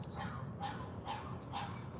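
A dog lets out three or four short, muffled barks or yips, evenly spaced and at moderate distance, over a steady background hum.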